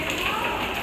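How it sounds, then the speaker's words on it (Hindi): Steady rain falls close by outside a hair salon in Indore, a dense, even hiss of drops hitting surfaces with no break and no talking. "अरे यार बारिश हो रही है"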